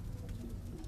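Pigeons coo in a loft in Quetta, a soft, low, throaty warble that murmurs steadily for a second without any talking.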